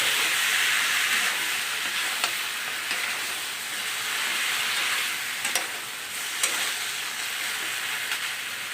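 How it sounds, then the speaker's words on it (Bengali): Spice masala for soybean curry fries in a pan with a continuous close hiss and sizzle, and occasional soft clicks of stirring. "ভালো করে ভেজে নেব।"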